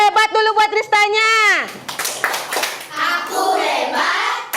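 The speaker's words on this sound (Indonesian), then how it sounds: "tepuk hebat dulu buat Ristanya." Classroom children clap for a classmate, first chanting together in rhythm with their claps, then breaking into looser clapping mixed with excited young voices, all close and loud.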